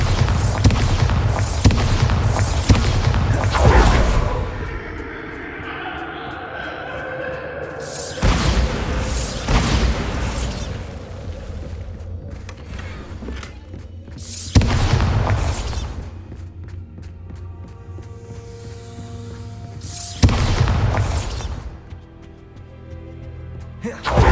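Bombarda spell explosions in the Hogwarts Legacy video game, several loud booming blasts spaced a few seconds apart, each decaying into rumble with quieter game ambience between them.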